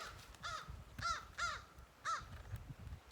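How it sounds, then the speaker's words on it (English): Several crows caw in a quick series of four or five harsh calls, moderately distant, over a steady rustling outdoor background in woods. "bothering the crows, can you hear them?"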